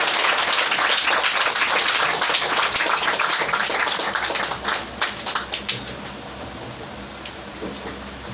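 A congregation at an Odia Christian service claps loudly together, a dense close burst of applause that thins out into scattered claps toward the end, with no talking over it.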